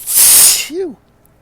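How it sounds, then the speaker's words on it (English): A person sneezes once, up close and loud, with a sharp breathy burst followed by a short voiced cry, then silence. "I have to sneeze."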